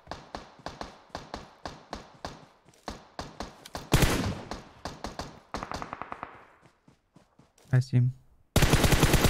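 Video game gunfire in rapid repeated bursts of sharp shots, some automatic fusillades, near and loud, with a player talking over it and a sudden loud blast near the end.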